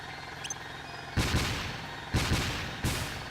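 Three heavy gunshots from the PS2 game Dark Cloud 2, each a booming crack with a short tail, spaced about a second apart over a quiet game background.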